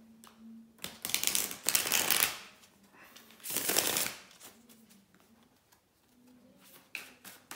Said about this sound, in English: hold on a second, guys, to shuffle the cards